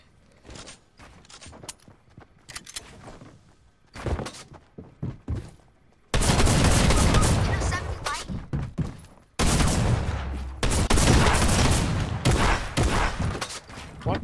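Video game gunfire: a few scattered sharp shots at first, then dense, loud bursts of rapid automatic fire that roar for several seconds at a time with brief pauses between.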